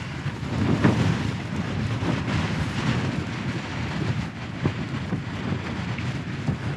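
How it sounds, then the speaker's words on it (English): Steady wind roars and buffets the microphone throughout, a constant rushing blast with occasional gusts and no voices. "Still a little bit windy."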